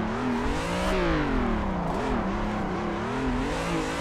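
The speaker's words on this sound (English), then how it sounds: "Assetto drifting is definitely a lot of fun" Car drifting in Assetto Corsa, played on a Logitech G920 wheel, with a high-revving engine whose pitch rises and dips as the throttle is worked through the slide, loud and continuous under a steady tire and road hiss.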